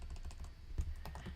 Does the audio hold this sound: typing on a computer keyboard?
yes